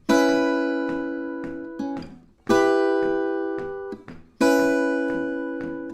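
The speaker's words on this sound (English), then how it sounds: "If you could play the guitar, it would sound like this." Fingerstyle blues guitar vamp holding one common note on top across chord changes, three strummed chords each ringing out and decaying with lighter picked notes between them, played alone.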